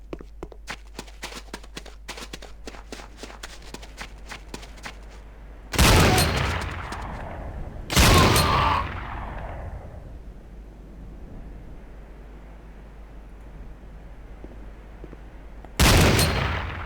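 Gunfire at a firing range in the game Command & Conquer: Renegade: a rapid string of shots over the first five seconds, then three heavy, loud blasts that ring out and fade between them.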